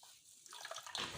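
Fresh coriander being washed in water in a home kitchen gives a soft splashing and trickling, faint at first and then busier, close by with no talk.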